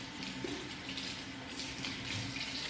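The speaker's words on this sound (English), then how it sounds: "Rinse under cold water." Cold tap water runs steadily into a sink for rinsing, a continuous close splashing stream with small shifts in tone as hands move under it.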